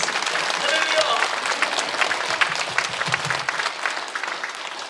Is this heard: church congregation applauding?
yes